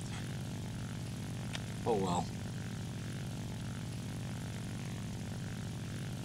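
Il-2M propeller aircraft engine drones steadily in War Thunder, a constant low hum throughout, with a brief spoken remark in the middle.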